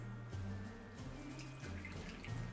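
Water pours steadily from a cup into cupcake batter for Christmas cupcakes, a soft continuous trickle with a faint tonal hum behind it, quiet and unbroken for the whole stretch.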